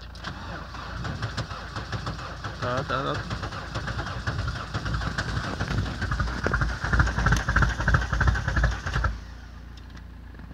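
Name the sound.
cold start of VW Golf 1.9 TD AAZ diesel engine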